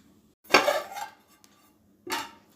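A lid set onto a pot of mango dal: two sharp metallic clatters, a louder ringing one and then a shorter one about a second and a half later, against near silence.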